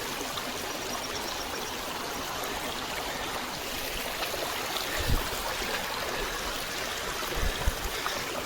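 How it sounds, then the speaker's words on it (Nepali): Rainwater rushes steadily along a road like a stream, a continuous close, broadband gush with a few brief splashy surges. "रोडमा नि एकदमै खोलाको जस्तो पानी बगिरहेको छ"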